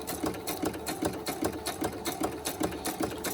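An old sewing machine runs steadily as it stitches up the side of a piece, its fast rhythmic clatter close and continuous throughout.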